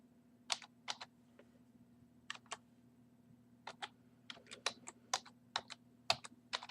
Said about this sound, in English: go to the terminal and type in npm install